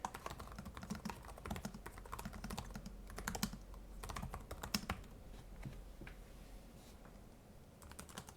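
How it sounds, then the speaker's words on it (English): Rapid, steady clicking of keys on a 2024 ThinkPad P1 Gen 7 laptop keyboard, close and fairly quiet, with short pauses between bursts of typing. "Typing test."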